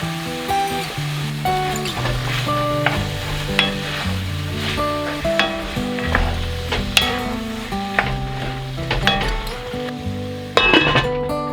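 Lentils and mushrooms fry together in a pan for a vegan lasagna filling, with a steady close sizzle, scraping stirs and scattered clinks of a utensil against the pan, and tonal background music throughout.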